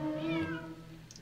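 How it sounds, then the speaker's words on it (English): A cat indoors lets out a single drawn-out meow, fairly soft and close, fading into quiet room tone. "Please excuse the cat."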